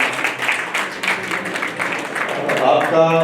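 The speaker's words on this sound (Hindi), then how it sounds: "उनका सब तालियों से स्वागत करें" An audience at the Try For Help Icon Award 2024 ceremony claps in a steady round of applause to welcome a guru into the hall, with a voice speaking alongside.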